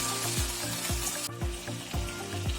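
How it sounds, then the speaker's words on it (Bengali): Potatoes frying in a pan for aloo posto, a steady close sizzle broken by rhythmic scraping stirs about twice a second. "এরকমভাবে এটাকে আরও দু মিনিটের জন্য ফ্রাই হতে দিন"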